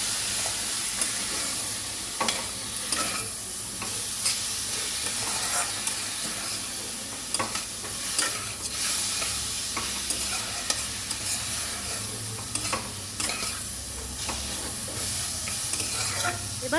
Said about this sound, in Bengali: ভালো করে কষিয়ে নিয়ে